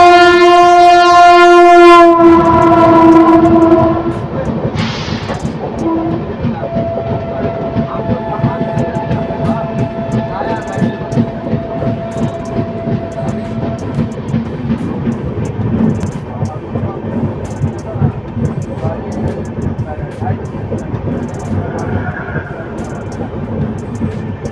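A Bihar Sampark Kranti Superfast Express blasts a long, loud horn, then rolls on with a steady, close rumble and clatter of coaches over the rails and faint tonal whines, with no talking.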